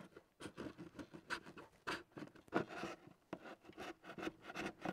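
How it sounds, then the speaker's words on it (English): A flathead screwdriver scrapes old glue off the headlight housing of a 2008-2016 Volvo V70/XC70, giving quiet, close, rapid repeated scratching strokes in an uneven rhythm with no talking. "is with a flathead screwdriver and just scraping it off as much as possible"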